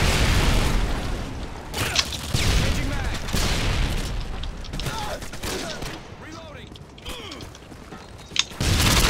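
Mechanical clicks and clacks of a magazine being swapped during a reload in Modern Warfare 2 on the Nuketown map, set amid dense game noise with scattered gunfire and someone talking over it.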